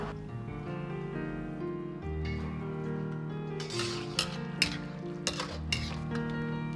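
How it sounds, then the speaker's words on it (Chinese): Shredded green pepper is stirred in a pot of water with a utensil, giving soft sloshing and swirling, then several sharp clinks of the utensil against the pot near the end, close and fairly clear. "最后再倒入青椒丝，稍微翻动一下即可关火捞出"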